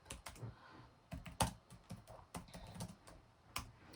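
Typing on a computer keyboard while taking notes, with irregular bursts of sharp, close key clicks and a few louder taps, quiet room, no talking.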